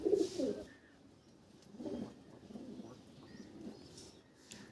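Madras pigeons cooing in a loft, a soft low coo near the start followed by fainter murmuring coos and light rustling, with quiet background chirps.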